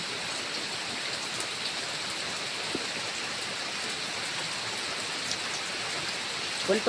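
Steady rain falling, a constant even hiss of drops on surfaces with no pauses, moderately loud throughout.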